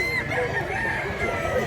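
A big rooster, over a year old and nearly two, crows in one long sustained call, close and loud, with faint farmyard noise beneath.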